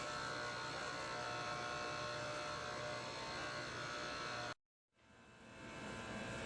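A stand mixer runs steadily, beating old-fashioned homemade pound cake batter. The motor keeps up a constant buzzing whir, cuts out briefly and then starts again, with no talking over it.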